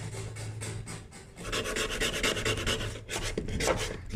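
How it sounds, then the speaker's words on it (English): A razor blade scraper strips paint from a wooden cabinet, giving a steady rasping scrape in repeated close strokes, with a brief pause near the middle. "Scraper, just a razor blade. Let's see if this works."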